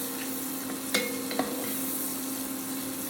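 Onions sautéing in bacon grease for a green beans and potatoes side dish give a steady, soft sizzle with a couple of sharp utensil clicks near the start, close and continuous with no talking.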